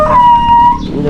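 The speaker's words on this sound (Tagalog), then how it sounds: "May aso." A dog howls or whines in a long, steady, loud tone lasting about a second, close by, with low background rumble beneath it.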